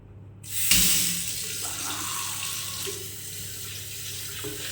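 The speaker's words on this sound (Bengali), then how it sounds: "চলো বোন, হাতটা একটু আগে ধুয়ে নিই, এটা একবার ধুয়ে নিই।" A hotel room tap in Puri turns on abruptly and runs steadily as hands are washed beneath it, a close, even rush of water with no talking.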